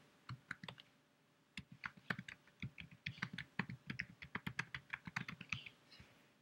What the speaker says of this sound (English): Then you will type on it just like you would type on a Word document.